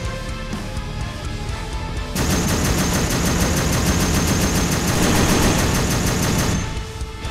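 Sustained, loud machine gun fire in Arma 3 rattles on for about four seconds in a steady rapid stream, starting abruptly over ambient battlefield noise and cutting off near the end.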